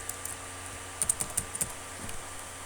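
Keystrokes on a computer keyboard while Python code is being written, a quick cluster of about eight crisp, close taps followed by a couple of softer presses, with no talking.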